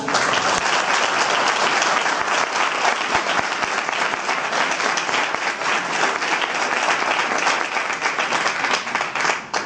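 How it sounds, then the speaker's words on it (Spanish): An audience applauds a speaker at an academic talk on parapsychology, a dense, steady wash of many hands clapping that fills the room at full strength and keeps going without a break. "Así que un fuerte aplauso para Óscar Iborra"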